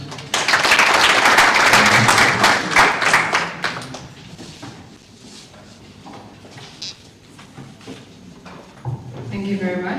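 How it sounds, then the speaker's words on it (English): Audience applause at a World Cancer Day celebration event, loud clapping from a crowd for about four seconds that then fades into quieter room noise, with brief talk and clapping returning near the end. "Round of applause."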